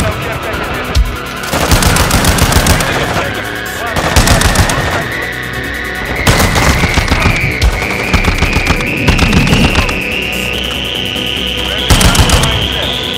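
Video game gunfire in MX Guardian: loud bursts of rapid automatic shots come in repeated volleys over a constant droning engine-like tone that slowly rises in pitch, with no pauses between the bursts.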